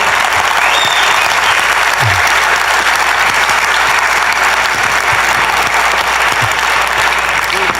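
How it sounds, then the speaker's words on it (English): A crowd claps continuously and loudly, a dense steady wash of applause lasting several seconds, with a few faint cheers mixed in. "Ladies and gentlemen, let's hear for Peter"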